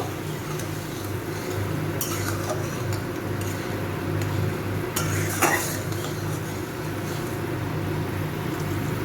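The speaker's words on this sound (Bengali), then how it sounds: "এটা ভালো করে একটু মিশিয়ে নেব।" Pomfret fish is mixed with salt and turmeric in a metal pan, giving soft scraping and stirring sounds with a few clear metallic clinks of utensil against pan over a low steady hum.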